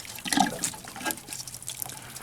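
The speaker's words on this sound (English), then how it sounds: "see if I can be able to blow some air bubbles in there." Air blown through a tube into water in a home, giving bubbling, gurgling splashes in a short irregular burst that is loudest at the start, then softer trickling bubbles with no voices.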